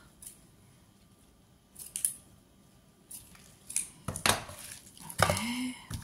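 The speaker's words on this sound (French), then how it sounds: "Alors, ciseaux." Scissors cutting Christmas craft material, a few separate snips and crisp clipping strokes, close and fairly loud against a quiet room, coming in short bursts with pauses between.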